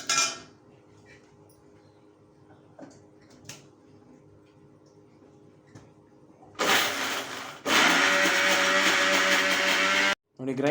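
A mixer grinder whirs loudly as it grinds fried urad dal with greens, starting abruptly after quiet kitchen clinks, running steady for several seconds, cutting out briefly, then resuming.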